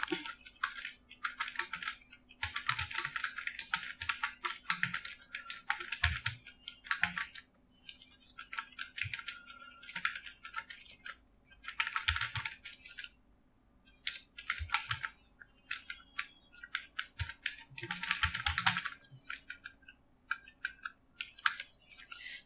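Steady typing on a computer keyboard while HTML code is entered, with bursts of quick key clicks separated by short pauses, close and clear with no talking.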